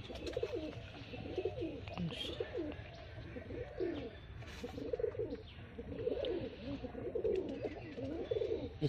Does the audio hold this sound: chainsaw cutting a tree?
no